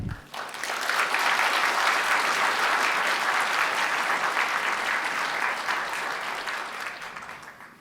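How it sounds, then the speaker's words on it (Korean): A church congregation gives loud, sustained applause to welcome a guest pastor, a dense wash of clapping that swells quickly and holds steady for several seconds before easing slightly. "우리가 힘찬 박수로 좀 모시겠습니다."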